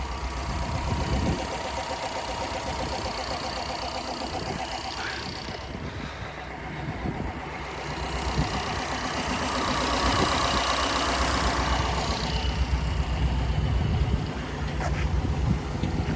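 A 1956 Ford Thunderbird with an aftermarket exhaust idles steadily close by, a continuous low rhythmic engine burble with faint mechanical ticking, unbroken across the whole stretch.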